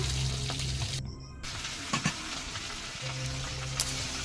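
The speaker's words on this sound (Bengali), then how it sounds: "এদিকে আমার মাছ ভাজা প্রায় হয়ে গেছে অর্ধেক" Fish pieces fry in hot oil in a home kitchen, a soft continuous sizzle with a few brief crackling bursts and a short quiet gap, close and unaccompanied by speech.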